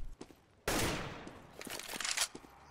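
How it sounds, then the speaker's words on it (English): AK rifle gunfire shooting through a wall in the game CS:GO, with a sudden loud blast followed by a quick burst of sharp shots and scattered clicks, all fairly faint overall. "anything that I can wall bang here with the AK"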